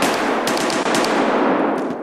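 Rapid automatic gunfire in the video game Escape from Tarkov, a dense, continuous burst of shots lasting the whole moment, loud and close with sharp repeated cracks.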